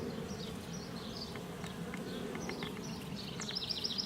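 Honeybees buzz steadily around an open hive during an inspection, a faint, continuous drone with individual bees whining past close by.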